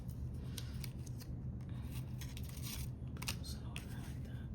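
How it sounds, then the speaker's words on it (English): Oracle cards are pulled from a deck with soft papery slides, flicks and crisp snips of card edges, close and quiet, with faint breathy murmuring underneath. "I'm just trying to pull out all the cards that are like sticking out."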